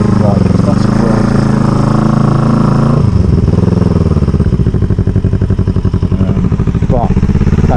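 A 1987 Kawasaki EN450 bobber motorcycle engine runs steadily close by, a loud continuous mid-pitched rumble with a slight rise in revs partway through and clattery mechanical texture throughout.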